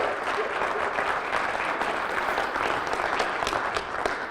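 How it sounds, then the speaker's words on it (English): An audience at a convention panel breaks into steady applause, dense clapping filling the room at moderate level for several seconds with no speech over it. "Give him a round of applause."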